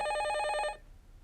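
A telephone rings in a Korean TV drama, a loud, rapid trilling bell that cuts off abruptly partway through, leaving quiet room tone.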